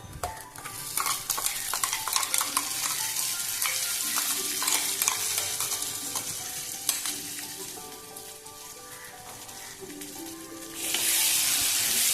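Tomato paste sautéing with onions in a pan for fish curry: a continuous loud sizzle with stirring scrapes, swelling into a sharper, hissier burst near the end.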